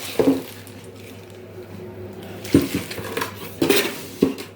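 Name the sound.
pot and lid being handled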